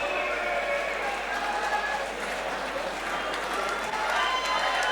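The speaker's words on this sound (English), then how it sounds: "the crowd coming to their feet in appreciation of these 2 fighters" Applause and cheering from an MMA event crowd rising to its feet for two fighters, a dense continuous roar of clapping held steady and loud throughout.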